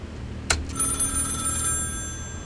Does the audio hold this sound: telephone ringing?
yes